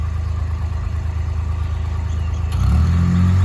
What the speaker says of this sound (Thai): ตัวนี้จะเป็นเครื่องยนต์ดีเซลนะคะ